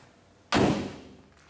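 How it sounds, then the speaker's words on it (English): The rear barn door of a 1988 Chevrolet Suburban Scottsdale slams shut once, a single close, loud, solid thud that decays quickly, with no talk around it. "you open it, put it in, and slam the door"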